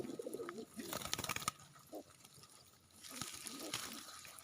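Pigeons give a few low cooing calls at close range, broken up by light rustling and brief noise bursts in between.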